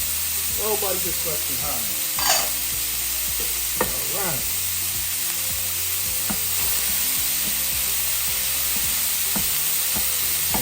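Onions sizzle steadily in a hot pan for a cheesy beef hoagie, with a loud, constant frying hiss broken by scraping, clinking stirs of a utensil, while someone talks briefly over the sound.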